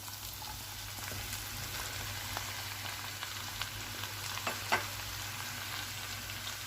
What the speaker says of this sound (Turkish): Evet pırasalarımı da karıştırıp biraz kavuracağım.